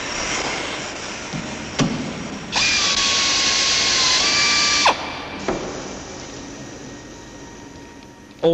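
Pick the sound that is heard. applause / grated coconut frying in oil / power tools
power tools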